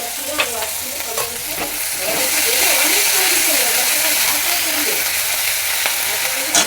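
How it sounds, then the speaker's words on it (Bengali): Garlic and ginger paste fries in a hot pan, giving a bright, continuous close sizzle and hiss that swells slightly midway, with occasional stirring scrapes. "এটাকে একটু লাল করে ভেজে নেব।"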